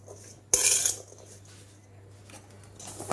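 Vegetable manchurian mixture being mixed with a spoon in a bowl: a sharp metallic scrape and clatter, then softer intermittent scraping and tapping against the bowl, close up over a faint steady hum.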